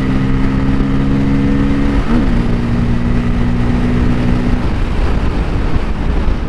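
A 2024 Bajaj Pulsar N250 motorcycle engine runs loud and steady on a test ride, its pitch rising slightly before settling into a sustained drone with wind noise, no talking.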